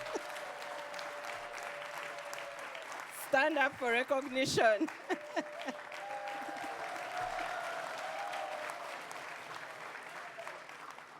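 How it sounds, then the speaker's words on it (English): An audience at a congress closing ceremony claps steadily over the whole stretch, and a voice over a loudspeaker briefly cuts in above the clapping. "Big hand of applause."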